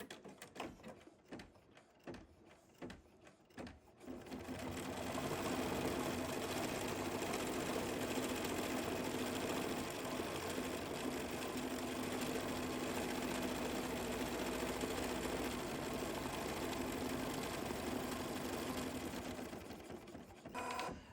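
After a few seconds of clicking, an embroidery machine sews a hedgehog placement stitch with a steady, continuous mechanical hum and rattle that carries on unbroken for over fifteen seconds.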